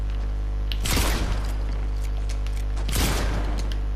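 Two heavy bursts of gunfire in the video game Fortnite, one around the first second and another near the third, each a loud, close crack with a quick decay over a low steady background hum.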